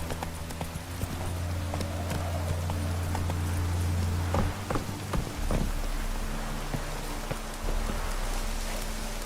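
Hooves of the horse Roach clip-clop at a gallop in The Witcher 3, a steady close rhythm of hoofbeats over low rumbling ambience, with no talking.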